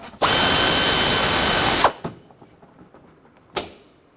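A power drill backs 5.5mm screws out of the front fender liner of a 2009-2014 Ford F-150, with one loud, steady whir of almost two seconds, a few small clicks and rattles, and then a short second burst.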